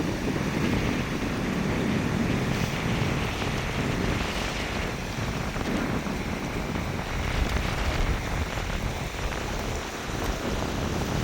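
A river current rushes past an eroding flood bank, making a continuous broad roar of churning water mixed with wind buffeting the microphone, with no break throughout.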